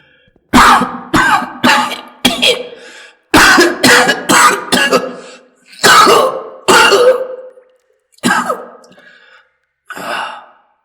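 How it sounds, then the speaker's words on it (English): A series of harsh, close coughs comes in short bursts and clusters, separated by brief silences, ending with a fainter final cough. "How long have you had that cough, dear friend?"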